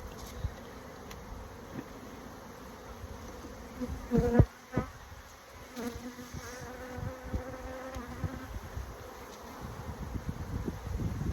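Honey bees buzz in a dense, steady drone during a hive inspection, with louder individual bees passing close by and a few clunks of frames or equipment.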